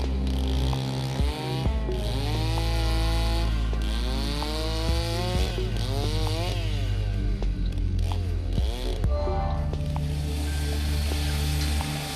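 Chainsaws carve large blocks of river ice at the Harbin ice festival, several engines whining and revving together up close, with pitch sweeping up and down continuously throughout.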